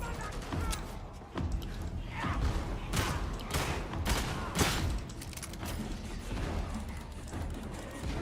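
Gunfire in Warhammer 40,000: Darktide, repeated sharp shots at irregular intervals over a busy, clattering combat backdrop, with some faint voice-like sound mixed in.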